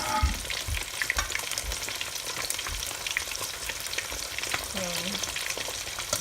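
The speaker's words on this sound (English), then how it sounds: "We don't want to overcrowd the pot. We need time to fry." Chicken wings fry in a pot of hot oil for honey butter wings, a steady dense crackle and sizzle running unbroken throughout, close and fairly loud with occasional sharper pops.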